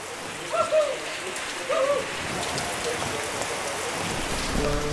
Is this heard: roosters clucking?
no